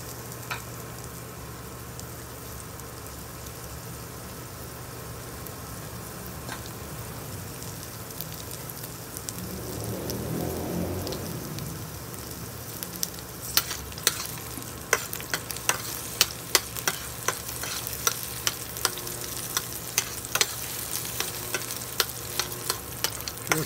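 Onion frying in a pan makes a soft, continuous sizzle, swelling briefly midway, then joined by brisk clicks and scrapes of stirring as the cooking continues, with no talking.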